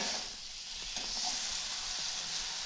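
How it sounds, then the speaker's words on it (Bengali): Spice masala for an egg curry fries in oil over low heat, giving a steady soft sizzle with faint stirring scrapes, close and alone without talk. "মশলাটা কষতে থাকবো। খুব জোরে আঁচটা নয়, অল্প করেই দিয়ে রেখেছি।"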